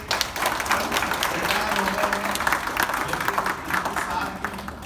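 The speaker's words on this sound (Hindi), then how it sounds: "तो जोरदार तालियां के लिए।" An audience breaks into enthusiastic applause at a comedy event, sustained dense clapping that carries on throughout with some crowd murmur.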